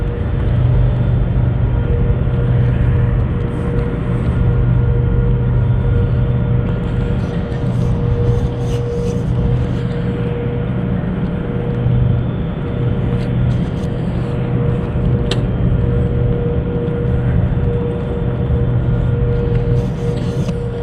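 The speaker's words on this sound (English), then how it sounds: "Got 2 cars, one in each direction." Two cars pass on a road near a creek-side winter trail, one in each direction, as a loud, steady rumble of tires and engines that swells and fades without any voices.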